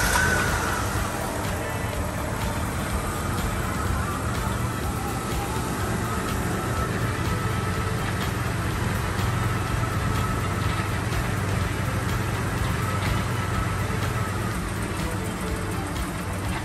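An old car's engine idling after periodic service maintenance, a steady continuous hum and rumble with some broadband hiss throughout.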